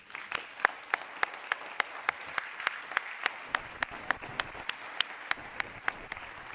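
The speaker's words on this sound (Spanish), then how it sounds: "un aplauso para Carlos" Audience at an energy-sector debate applauding a speaker: steady, moderately distant clapping with sharp individual claps standing out at a regular beat, no talking over it.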